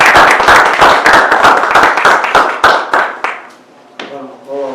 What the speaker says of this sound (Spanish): Pues vamos a darle un aplauso para recibir al doctor.